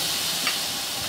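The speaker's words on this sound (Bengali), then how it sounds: "তেলটা ফুটে উঠেছে এবং এখন চিংড়ি মাছটা আমি দিয়ে দিব" Prawns hit hot oil with a steady, fairly loud sizzling hiss, one brief crackling burst rising midway.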